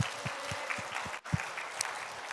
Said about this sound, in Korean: 다시 한번 하나님께 영광의 박수 올립니다.